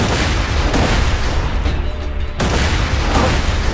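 A grenade blast in Borderlands 2, a loud booming roar with a continuous rumbling, crackling wash that briefly dips before surging again, heard close and without talk.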